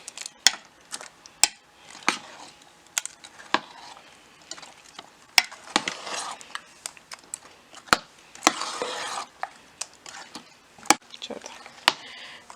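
A spoon scrapes and clicks against a bowl while fruit custard with pomegranate seeds is stirred, giving irregular sharp taps and soft wet swishes, close and fairly quiet, with someone speaking between the strokes.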